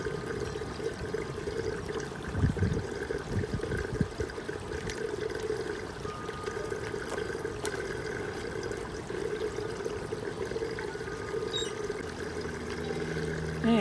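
Water draining out of a deep-water-culture aquaponics grow bed, a continuous trickling and gurgling flow at moderate level with a few brief knocks and clunks along the way.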